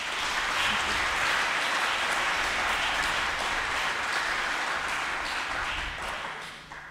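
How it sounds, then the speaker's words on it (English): Sustained applause from the audience at a writers' festival opening night, a dense even roar of many hands clapping continuously, fading a little at the very end. "can we request another round of applause"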